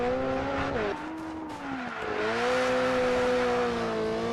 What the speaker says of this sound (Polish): Spada z obrotów ten Peugeotik, niestety